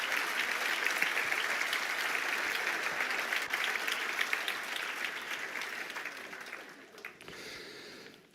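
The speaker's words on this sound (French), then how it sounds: "Est-ce qu'on peut l'applaudir?" A church audience breaks into sustained applause, a dense steady wash of many hands clapping that gradually tapers off toward the end.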